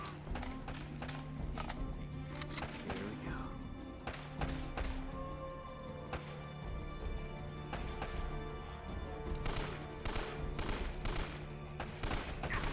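Rapid gunfire from the Uncharted video game, with dense bursts of sharp shots and impacts arriving in quick volleys, heaviest near the end, over a steady low game hum.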